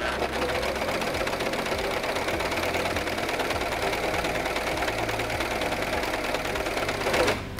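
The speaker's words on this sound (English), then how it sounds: "Put the presser foot lifter down and step on the foot control to begin sewing." A Singer 14CG754 four-thread serger runs continuously while overlocking and trimming fabric with its knives, a close, loud, rapid mechanical chatter that lasts the whole stretch with no voices.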